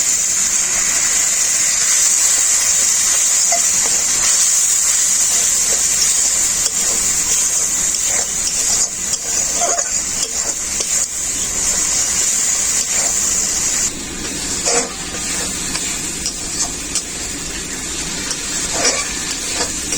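A little water poured into frying masala for a Bengali taro (gathi kochu) curry, with a continuous gushing, sizzling wash that holds for about twenty seconds and has a few small clinks and shifts along the way.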